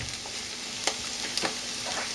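Steady close sizzle of chicken pieces and peas frying over high heat in a sauté pan, with occasional light scrapes and clicks of stirring.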